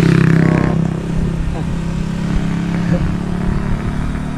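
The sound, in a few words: motorcycle riding past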